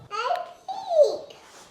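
A one-year-old boy babbles and squeals in the background of a home woodworking space, a short, bright, sing-song burst of baby vocalising with rising and falling pitch.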